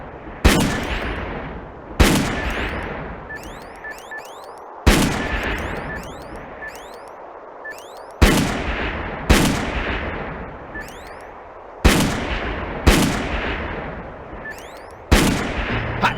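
Gunfire and cannon blasts from the shooter game Darkest of Days: loud, sharp reports roughly every one to two seconds, each followed by a decaying rumble, with faint shell-like tinkles between shots and no talking.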